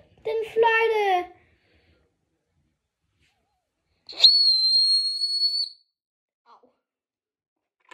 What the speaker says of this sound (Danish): Den fløjte.